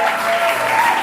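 A church congregation at a Friday service breaks into strong, sustained applause with scattered cheers, loud and close, filling the room without a break.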